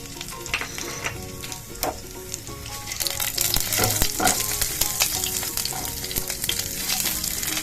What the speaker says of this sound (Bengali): ফোড়নে দেবো আমি কিছুটা জিরে, দুটো ছোট শুকনো লঙ্কা আর একটা তেজপাতাকে ছিঁড়ে